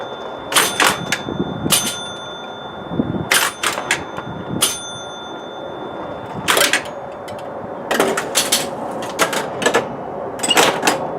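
A 1962 Gottlieb Fashion Show electromechanical pinball machine in play, with sharp bursts of bell dings and clattering chimes and relay clicks in several clusters over a steady mechanical hum, loud and close.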